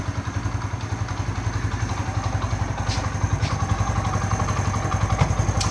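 A Honda CD 70 motorcycle engine idles steadily in gear, a fast even putter with light mechanical clatter throughout, close by and fairly loud.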